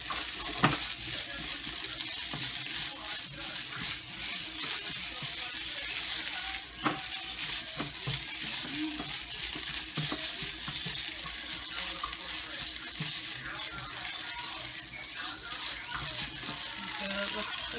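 Eggs frying in a pan give a steady, close sizzle that lasts throughout, broken by occasional light clicks and scrapes of a utensil.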